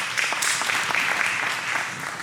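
Audience clapping at a community talk, a brief scattered round of hands from a modest crowd, moderately loud with uneven individual claps standing out in the patter.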